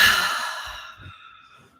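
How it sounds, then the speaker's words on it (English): A single slow, audible exhale during a relaxation breathing exercise, strong at first and fading gently, with soft breath noise trailing off into quiet. "Let's take 3 to 5 breaths, just breathing in and breathing out."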